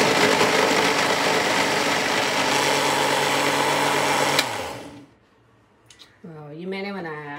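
A blender whirs loudly and steadily while blending mango, milk and sugar into a shake. It runs for several seconds, then winds down and stops, and a voice speaks briefly afterward.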